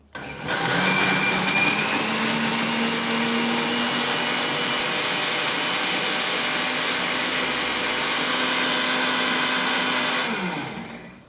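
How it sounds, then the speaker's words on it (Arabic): Blender grinding hazelnuts into chocolate drink ingredients, a loud steady whirring motor that starts abruptly, runs evenly for about ten seconds, then winds down, with no voices. "رح أسكر الخلاط وأخلط المكونات لمدة دقيقة حتى ينطحن معي البندق وتتجانس المكونات"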